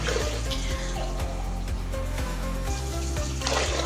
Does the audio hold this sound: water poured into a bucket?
yes